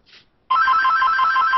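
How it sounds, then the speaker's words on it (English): A telephone rings in a steady electronic trill that cuts in abruptly after a faint lead-in and continues loud and unbroken, with no voices over it. "It's a phone."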